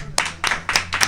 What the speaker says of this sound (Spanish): acá llega don Mario Sesquirós, para quien pido un aplauso